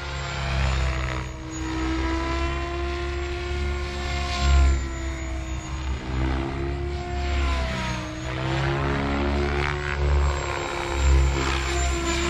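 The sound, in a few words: remote-control model helicopter flying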